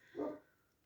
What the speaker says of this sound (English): That's not my dog, that's next door's dog.